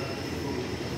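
A Mumbai Metro Aqua Line train gives a steady, loud rumble with a continuous tonal whine, unbroken and close throughout.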